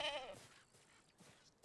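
Goat in the video game Skyrim giving a single short, nasal bleat up close, trailing off into faint ambient game sound.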